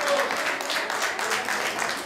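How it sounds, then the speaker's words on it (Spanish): Audience applause for Andrés after his election, a brief steady burst of many hands clapping with a murmur of voices beneath. "Así que un aplauso para Andrés y gracias por haber sido votado."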